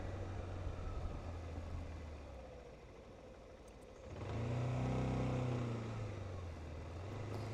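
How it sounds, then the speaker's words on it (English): A car drives past on a road near Mt. Fuji: a faint engine hum swells to a nearer, louder pass with rising tonal whine midway, then eases off, with no talking. "That car's going the wrong direction."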